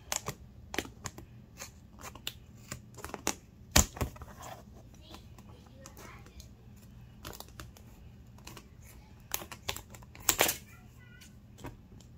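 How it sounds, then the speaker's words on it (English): Sparse, sharp snips and crisp paper rustles at uneven intervals as scissors cut out a yard sign sublimation design, fairly close, over a quiet background. "I just follow through with the scissors"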